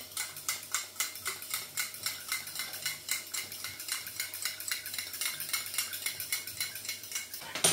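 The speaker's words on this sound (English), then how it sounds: "I'll give it a good stir." A spoon stirs beef stock in a pot with quick, regular clinks and scrapes against the metal, close and fairly quiet, with a low hum underneath and no talk.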